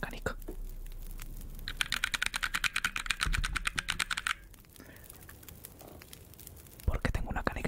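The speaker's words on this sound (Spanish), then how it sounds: "vamos a deleitarte con un poco de teclado" A computer keyboard is typed on close to the microphone in rapid, irregular bursts of clicks and clacks, then briefly goes quieter before a final flurry of keystrokes.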